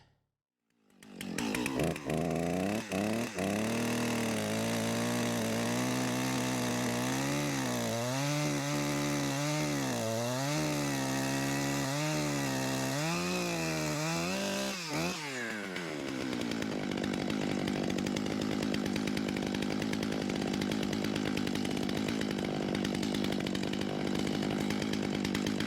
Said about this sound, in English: Just going to let the chainsaw idle because it needs to warm up a good bit